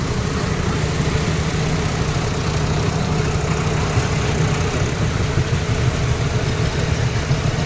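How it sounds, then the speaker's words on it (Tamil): A tractor engine runs at a seashore while it is used to haul a fishing boat to the sea, producing a steady, close, low rumbling idle that continues unbroken. "டிராக்டர் வச்சு போட்டை வந்து கடலுக்கு கொண்டு போகிறோம்"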